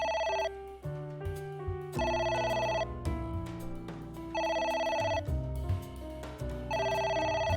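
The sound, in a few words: phone ringing in video game AI: The Somnium Files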